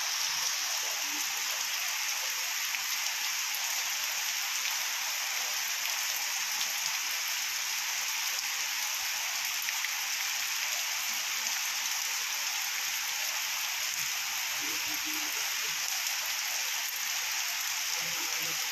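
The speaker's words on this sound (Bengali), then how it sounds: "সকাল থেকে রীতিমতো শুরু হয়েছে এই বৃষ্টি।" Heavy morning rain pouring steadily onto a waterlogged courtyard in Berhampore, Murshidabad, a continuous dense hiss of falling drops with no letup.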